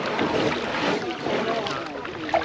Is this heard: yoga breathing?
no